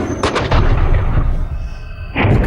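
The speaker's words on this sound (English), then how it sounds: "The cannon fires the ball 200 yards." A stone ball fired from an old muzzle-loading cannon, heard as a loud, sustained booming blast that fills the moment, followed by a rising second burst near the end.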